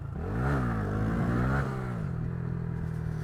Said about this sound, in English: This seems like a good spot for a little bit of wheelie practice, actually.